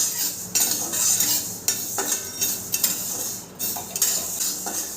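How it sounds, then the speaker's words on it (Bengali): Whole fenugreek seeds and coriander dry-frying in a pan for a raw mango pickle spice mix, with a spoon scraping and knocking against the metal at irregular intervals over a faint steady sizzle. "মেথিগুলো দিয়েও খুব ভালো করে ভেজে নেব।"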